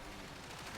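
Sustained, rapid video-game gunfire from a counter-strike-style shooter, a full magazine emptied into smoke as one dense, continuous burst of loud shots filling the whole moment.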